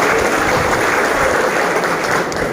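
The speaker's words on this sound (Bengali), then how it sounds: "করতালি দিয়ে অভিনন্দিত করার জন্য" Audience at a West Bengal government grant event applauding loudly, a steady dense wash of many hands clapping at once with no voices.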